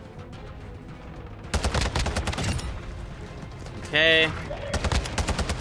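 Bursts of automatic fire from the TAQ V rifle in the video game MW2 come in two rapid strings of loud, close shots, with a sharper blast between them and a brief spoken word.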